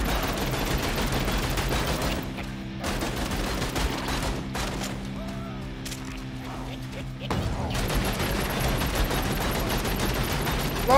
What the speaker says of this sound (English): Oh, it was a pistol.